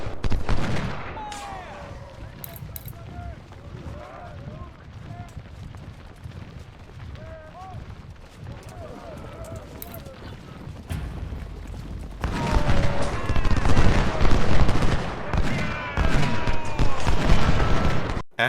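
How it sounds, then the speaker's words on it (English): Cannon and musket volleys in the Ultimate General: Civil War video game, Port Republic battle: a continuous crackle of rifle fire and dull booms that grows sharply louder and denser partway through. "Once Johnston takes the second cannon volley, have him back up."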